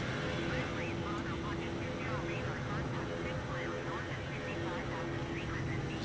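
An Airbus A380 in Microsoft Flight Simulator drones with a steady, loud engine roar as it comes in to land, while someone talks over it throughout.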